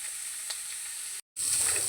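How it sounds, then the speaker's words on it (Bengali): Carrot and onion fry lightly in a pan with a steady close sizzle and hiss, broken by a brief silent gap before the sizzling returns slightly louder. "গাজর আর পেঁয়াজ আমি হালকা ভেজে নেব"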